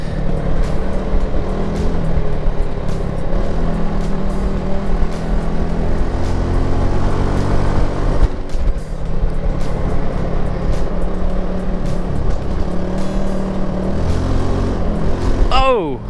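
A Honda Helix CN250 scooter rides along a pothole-strewn road in Florida, giving a loud, continuous engine drone whose pitch rises and falls as it accelerates, with heavy wind and road rumble throughout.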